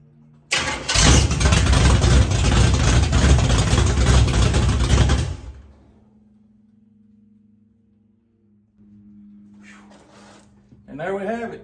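A car engine cranks and catches, then roars loudly at high revs for about five seconds before settling into a quiet, steady idle, with a brief voice near the end.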